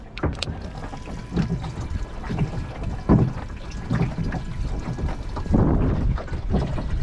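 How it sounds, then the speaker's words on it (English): Water pushed through a boat's bilge pump setup, giving a steady wet rushing and gurgling with irregular surges and knocks, close up and moderately loud, with no talking. "you can definitely hear the water's going through"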